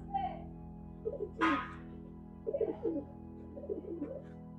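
Pigeons coo in soft, low bursts close by, several short rolling calls spread across a few seconds over a steady background hum, with someone talking between them.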